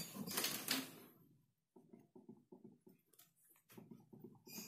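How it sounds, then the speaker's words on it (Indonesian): Knocking rattle from a worn, loose crankshaft in a Yamaha Vixion motorcycle engine, a quick run of dull repeated knocks in short bursts, close and fairly faint, following a brief louder noise at the start. "Permasalahannya ada di krok as yang sudah mulai oblak."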